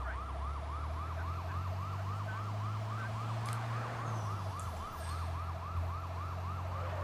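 Emergency vehicle sirens wail in a rapid repeating yelp pattern in the Sleeping Dogs: Year of the Snake video game, steady and moderately loud over a low rumbling engine drone, with no talk.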